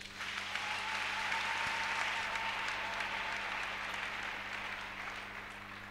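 A church congregation applauds in a dense, steady wash of clapping that holds evenly for several seconds and eases slightly at the end.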